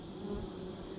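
Honey bees buzz in a steady, dense low hum at the hive, close and continuous, with no other sounds.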